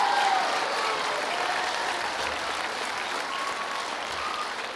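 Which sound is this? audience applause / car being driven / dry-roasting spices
audience applause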